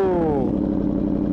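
A motorcycle engine revs loudly with its exhaust off, a rising roar that settles into a rough, steady drone, close and continuous.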